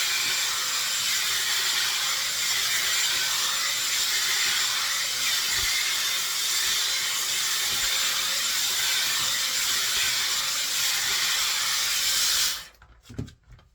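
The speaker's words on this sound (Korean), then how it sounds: "이 스무딩 브러쉬로 머리를 빗어보도록 하겠습니다. 바람도 세고 온도도 세고 그 다음에 이렇게 펴겠습니다" A Dyson Airwrap smoothing brush on high airflow and high heat blows a loud, steady rush of hot air through hair for about twelve seconds, then cuts off abruptly and leaves brief faint handling noises.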